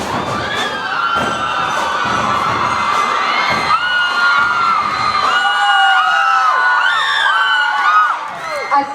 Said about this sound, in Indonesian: Putri-putrinya berteriak melihat putra-putranya yang lagi berjalan dengan gagah perkasa.